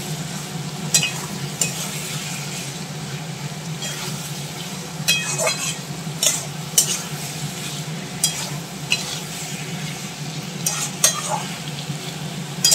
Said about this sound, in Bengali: দেখো চর্বি দিয়ে আলুর দমটা প্রায় কষানো হয়ে এসেছে। আর সামান্য একটু কষাবো তেল ছাড়া অবধি